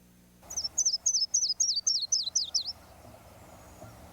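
A yellow-rumped warbler, a bird of northern coniferous forests and high mountains in summer, sings a crisp series of about nine quick, evenly spaced chirping notes. The song is clear and fairly close, followed by quiet with no voices.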